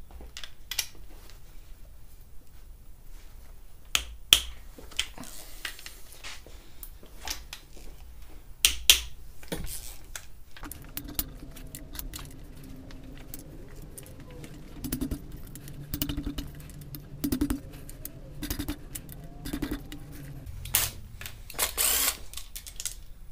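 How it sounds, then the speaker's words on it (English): Tools working on the rod bolts of a Mazda Miata 1.8L engine during teardown, sharp scattered metallic clicks and cracks alone at close range, followed by a busier stretch of clanks and ratcheting. "let's start getting these rod bolts broken loose."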